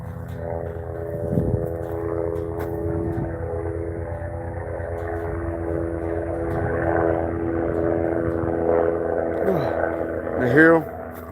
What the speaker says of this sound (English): There come them choppers.